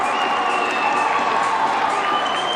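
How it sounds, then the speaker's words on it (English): A crowd at a boys' high school Division 2 basketball championship, Pelham versus Hollis-Brookline, roars in a steady sustained wash of cheering and whistles, filling a large gym with no pause. "listen to this crowd"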